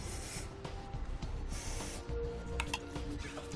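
Short hissing bursts of spray lube cleaning trailer hitch bolt holes on a 2015 Toyota RAV4, two or three quick sprays close by with faint clicks and handling noise between them.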